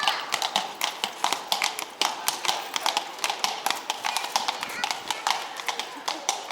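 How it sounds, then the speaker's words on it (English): Horses clip-clopping past on a cobblestone street in Kraków, brisk irregular hoof strikes ringing off the stones at close range, with voices in the background. "let the horses go by."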